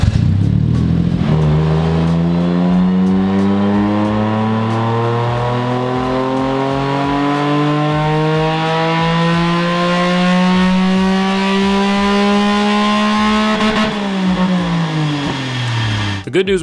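A car engine revs up hard on a chassis dyno during a pull in third gear in a small shop, a loud steady climbing drone that rises for about twelve seconds, then drops sharply as the throttle lifts.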